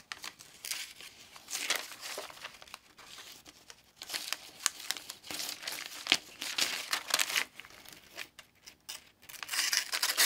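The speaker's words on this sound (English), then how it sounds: "At least I can start out cutting the paper." A freshly sharpened knife slices through paper in irregular bursts of dry crinkling and tearing, close and fairly loud, repeating across the stretch with brief pauses between strokes and no talk.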